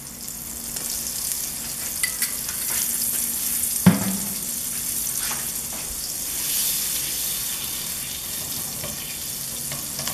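A soft, continuous sizzle of margarine melting in a pan, with a sharp clatter of cookware partway through.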